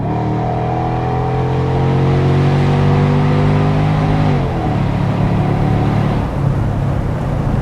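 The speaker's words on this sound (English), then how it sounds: "but with this muffler delete I did, just take a listen." Mercedes-Benz SL 500 R230 V8 with a muffler delete, a loud close exhaust drone that rises steadily, then drops and shifts twice as revs change.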